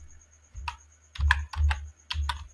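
Keystrokes on a computer keyboard while writing code, arriving in short clustered bursts of clicky taps with brief pauses between them, close and fairly quiet.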